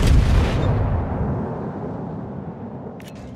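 Naval guns fire on a target in a warship video game: one loud, close boom opens and then fades into a long, low rumble, with a faint crackle near the end.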